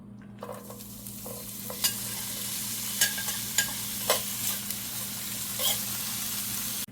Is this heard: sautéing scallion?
yes